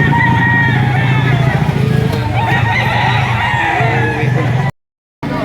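Chickens and roosters at a busy poultry market in Lipa, Batangas, crowing and clucking under loud talk and a motorcycle engine, with a brief dropout near the end.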